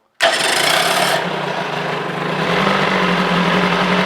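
A 1975 Johnson 25hp outboard motor, running with its cover off, fires abruptly and settles into a loud, raspy, high-revving drone that stays close and continuous to the end.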